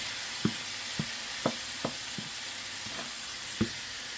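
Beetroot rice and oxtail sizzle in a skillet under a constant hiss, while a utensil stirs with about seven distinct scraping knocks at a fairly regular pace, roughly every half second.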